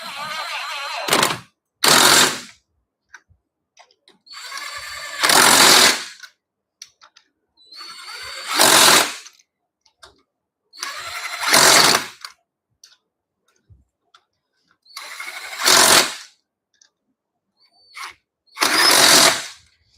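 An impact wrench works the wheel bolts on a Dodge Viper during a brake pad change, firing in six loud, separate bursts of roughly a second each, with short quiet gaps in between and no talking.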